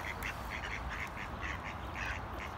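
Ducks and ducklings being hand-fed give repeated soft, faint quacks and peeps over a steady outdoor rumble, in quick irregular bursts.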